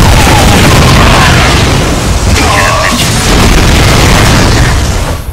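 A heavy, booming explosion from the StarCraft II campaign fills the clip with loud rumbling. Blasts and battle noise continue throughout, and a voice talks faintly underneath.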